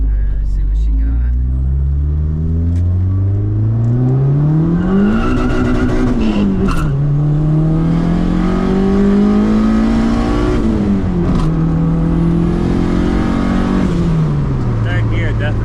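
A car with a built engine and budget turbo kit accelerates hard, its loud engine note rising through the gears with drops at each shift, heard from inside over a constant roar while people talk.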